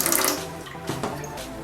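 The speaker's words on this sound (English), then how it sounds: "So you fill in the tub with warm water." Warm water runs from a tap into a bathtub, a steady close splashing rush with no voices.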